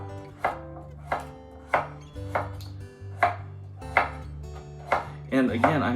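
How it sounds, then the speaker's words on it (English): Peeled carrots sliced at a slight angle with a kitchen knife on a cutting board, giving eight or so crisp, evenly spaced chopping knocks that are close and clear, with no talking. "But I'm going to cut these carrots as well."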